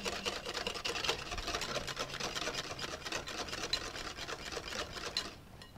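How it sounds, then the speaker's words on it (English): A whisk beats cocktail sauce made of mayonnaise, ketchup, white pepper and cayenne in a bowl, giving rapid, steady, close-up clicking strokes that stop abruptly near the end. "Whisk again."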